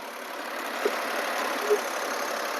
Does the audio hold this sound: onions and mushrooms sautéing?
no